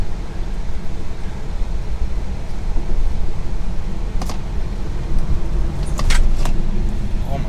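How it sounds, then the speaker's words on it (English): Car braking hard from about 50 mph into a sharp right turn on a track with Brembo brakes: steady loud road and engine rumble inside the cabin, with a few brief clicks and rattles. "So 50 miles an hour, braking a sharp right turn here."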